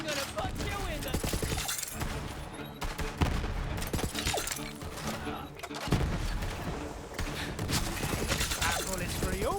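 Borderlands 3 gunfire in a dense, continuous exchange of shots, heavy bursts and clanking mechanical weapon sounds running loud and up close through the clip, joined by game music and effects.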